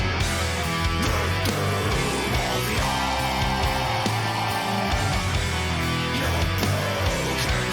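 A doom metal song plays loud and dense, with distorted guitars, pounding drums and harsh growled vocals in a continuous heavy wall of sound.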